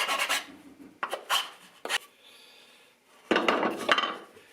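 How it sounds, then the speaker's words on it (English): Hand filing of rough ridges on a wooden dovetail jig for a table saw, several short rasping strokes in bursts with a quiet gap between. "So let me try to file those down first."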